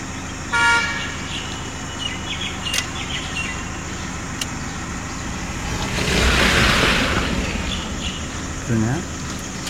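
A short vehicle horn toot sounds early, followed by traffic noise, a passing vehicle's rush and another brief honk, with a voice speaking at times.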